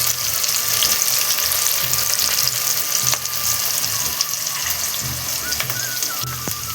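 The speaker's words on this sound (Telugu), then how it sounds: "పచ్చిమిరపకాయలు వేసినాక ఎర్రగడ్డలు అయితే వేస్తున్నాం. అయితే కొంచెం ఫ్రై అయితే కానిద్దాం." Onions fry in a pan with green chilies while making paneer curry, a constant close hiss and crackle of oil with occasional stirring scrapes and small clinks.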